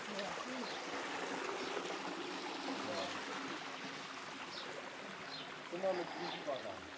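Water trickles and splashes steadily from a water supply beside a hiking path between Sóller and Fornalutx on Mallorca, a soft continuous babble with faint outdoor background sounds.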